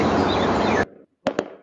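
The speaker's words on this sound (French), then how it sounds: "Le feu d'artifice est vraiment pas mal." AI-generated fireworks effect: a dense, loud crackling roar of bursts that cuts off abruptly, followed by a brief pause and two sharp separate pops.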